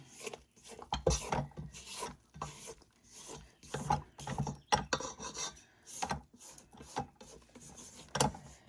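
A stand mixer kneads bread dough with rhythmic grinding and scraping bursts, each churning surge rising and falling close by in a steady mechanical pattern.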